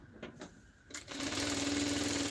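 A sewing machine stitches a shirt, starting with a couple of soft taps before settling into a steady, fast mechanical whir that runs close and continuous to the end.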